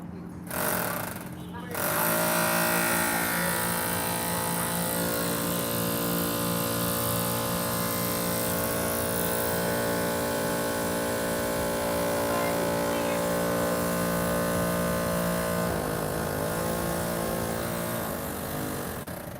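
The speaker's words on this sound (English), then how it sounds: "He's using a jackhammer to get that piece of concrete off." A jackhammer breaking concrete pounds continuously and loudly, a dense rattling drone that persists throughout, with voices talking beneath it.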